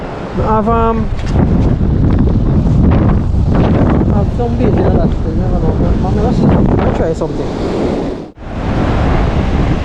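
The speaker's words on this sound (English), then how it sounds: "And a whole heap of breeze now." Strong sea breeze and rolling surf roar continuously on a Jamaican beach, with heavy wind buffeting the microphone while someone talks over the noise.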